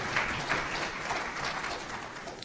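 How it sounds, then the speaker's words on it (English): An event audience applauds a panel, with continuous clapping heard at a moderate distance, sustained and steady across the whole stretch and no voices standing out. "let's have one strong round of applause for our panel here today"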